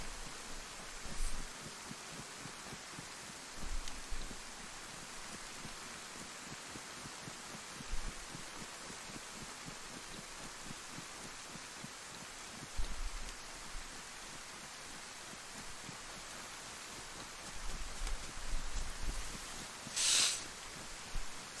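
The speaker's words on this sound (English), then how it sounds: "It's a big rainstorm." A big rainstorm in an Xbox survival game hisses steadily as a broad, even wash of rain, with occasional low thumps underneath and a brief sharp click near the end, no voices.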